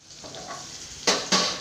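Food sizzling in hot oil in a home kitchen pan, a steady close fry broken near the end by two sharp scrapes of a spatula stirring it.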